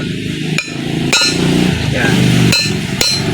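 Sharp metallic strikes of a hammer on a chisel cutting apart an aluminium cylinder head from a scrapped automobile, about five spaced blows ringing out over steady background noise while someone talks.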